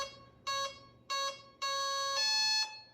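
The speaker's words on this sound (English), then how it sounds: "if you have it correct, it's gonna beep 3 times because we're using a 3-cell" An RC plane's electronic speed controller, running a 3-cell battery, gives three short beeps followed by a longer two-part tone, clear and close with no voices.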